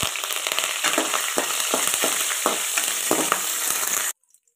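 Curry leaves dropped into hot oil with browned peanuts in a frying pan for a North Karnataka breakfast, giving a loud continuous sizzle with stirring scrapes, cut off abruptly at the end.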